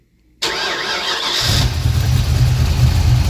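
The engine of an old project car, sitting unused for 26 years and just given a throttle cable adjustment, cranks briefly and catches, then settles into a loud, steady idle close by.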